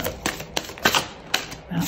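A tarot card is drawn and shuffled from a deck, a series of short dry card snaps and flicks at an uneven pace, close and fairly quiet, ending with a soft brushing sound.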